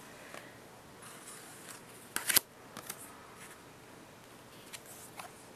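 Osho Zen tarot cards being shuffled and drawn, a few soft, brief flicks and slides with one sharper rustle in the middle, faint and close in an otherwise quiet room.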